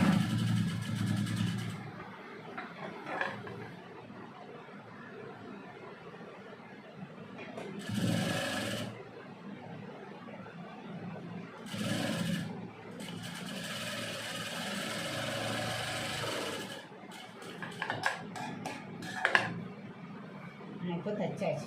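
A sewing machine stitches the hook strip of a blouse in several whirring bursts of a few seconds each, starting and stopping, while someone talks in Tamil over and between the runs.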